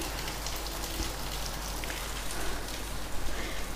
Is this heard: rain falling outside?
yes